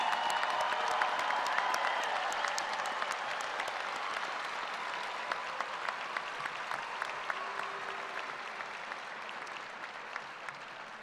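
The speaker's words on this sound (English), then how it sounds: "please join me in one more round of applause for the entire Spring" A large audience at a Kansas State University spring commencement ceremony applauds the graduating class in a sustained, dense roar of clapping that fades slightly toward the end, with a few sharp individual claps standing out.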